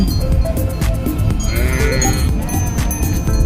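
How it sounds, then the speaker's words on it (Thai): A large flock of sheep in Austria bleats loudly and repeatedly at close range, several animals overlapping over a constant outdoor background. "วันนี้มารวมเหล่ากันค่ะ แกะเยอะแยะเลย"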